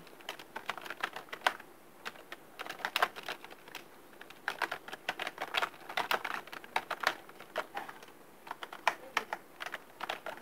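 Quiet keystrokes on a computer keyboard come in quick irregular bursts with short pauses between them, close by and alone with no voices.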